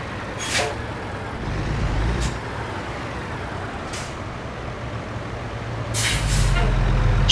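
A truck in American Truck Simulator rolling to a stop, with several short hissing air-brake bursts over a low engine rumble that swells near the end.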